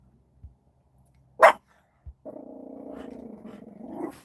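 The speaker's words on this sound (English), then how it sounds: "Scary guard dogs." A guard dog gives one sharp bark, then a sustained low growl after a short pause, close and clear against an otherwise quiet background.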